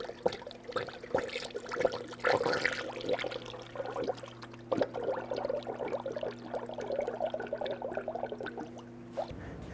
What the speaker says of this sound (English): Now I'm going to go ahead and fill up our radiator with the manufacturer specified coolant.